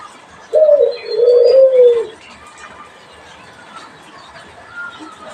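Caged pigeons or doves coo in a bird shop aviary, a loud close burst of soft rolling coos early on, then quieter background rustle with a faint later call.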